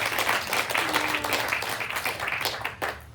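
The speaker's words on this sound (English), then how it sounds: "a huge round of applause and gratitude to Blair." An audience at a sea-themed keynote conference claps in steady, dense applause that fills the room, loud and continuous before easing slightly at the end.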